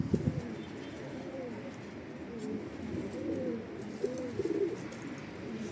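A homing pigeon coos close by on the street, with a run of soft, throaty, rolling coos repeated at a low, steady level.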